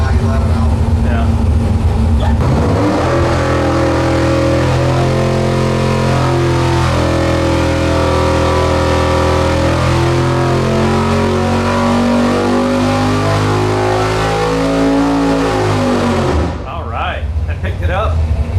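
Dual Dominator nitrous 632 big-block Chevy engine rated at 1442 horsepower, revving hard and holding a loud, rough, deep roar for over ten seconds before dropping off near the end.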